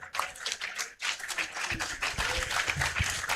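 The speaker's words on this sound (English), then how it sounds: "So let's show that in our clap" Celebratory applause from an audience at an African Liberation Day event, a dense steady patter of many hands clapping through the whole stretch, with a brief dip before it swells again.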